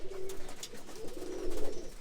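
Pigeons coo in a loft with young birds, low soft coos rising twice over about two seconds, the second phrase longer and louder, with faint rustling in the background.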